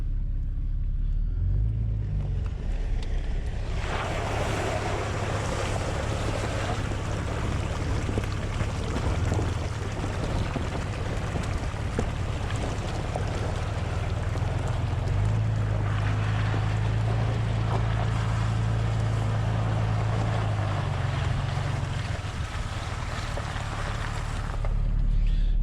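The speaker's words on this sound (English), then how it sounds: "We're going to cross this water right over here" Jeep Cherokee XJ in four-wheel drive crosses a shallow river, with a constant rumbling engine and splashing water under heavy wind buffeting, the engine note rising into a louder sustained drone midway before easing off.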